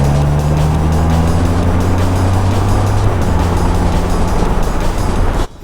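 Can-Am three-wheeled motorcycle cruising on a mountain road, a steady loud engine drone with wind rush that holds throughout and cuts off abruptly near the end.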